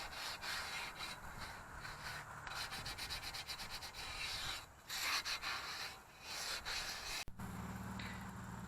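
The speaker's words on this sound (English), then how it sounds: "go around it where you sanded with the 80 grit, just to get some of the sand scratches out" An aluminum Pony wheel being hand-sanded with 180 grit sandpaper, close rhythmic rasping strokes that speed up and slow down, with brief pauses and a quieter hum in the background near the end.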